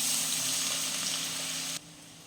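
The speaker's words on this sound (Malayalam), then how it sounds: "എണ്ണ നല്ലതുപോലെ ചൂടാക്കിയിട്ടുണ്ട് നമുക്ക് ഇഞ്ചിയും വെളുത്തുള്ളിയും ചോപ്പ് ചെയ്തത് അതിലേക്ക് ഇട്ട് കൊടുക്കാം" Chopped ginger and garlic fry in hot sesame oil for a dates pickle, giving a loud, even sizzle close by. The sizzle drops sharply near the end.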